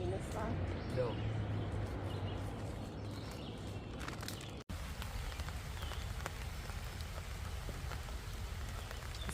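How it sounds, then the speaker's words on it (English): Steady rain patters on a surface with a constant hiss at Cunningham Falls State Park, Maryland, and voices murmur underneath; a brief cut splits the recording midway. "It's raining."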